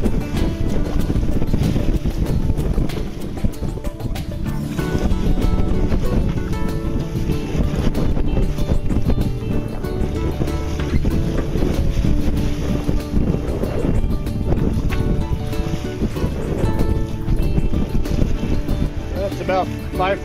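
Steady wind rushes across the microphone aboard a sailboat under sail, making about 4.7 knots on the water, with a continuous loud blustery roar and wave wash throughout and voices talking faintly underneath.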